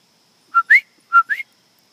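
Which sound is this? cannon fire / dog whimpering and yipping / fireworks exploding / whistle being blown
whistle being blown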